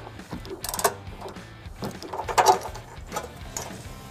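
A 10mm socket wrench with an extension works loose an exhaust isolator bolt under a 2020-2024 Ford Explorer, giving irregular bursts of ratcheting clicks and metallic clatter at close range.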